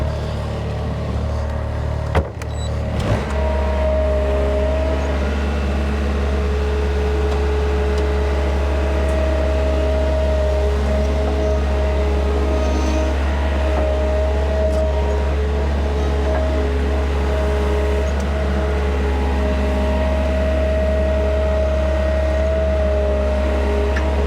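A skid steer engine idles steadily throughout, a constant low drone with a faint whine above it and a brief clunk near the start.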